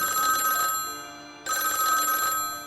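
A telephone bell rings in two loud bursts with a short gap between them, clear and close with no other sound.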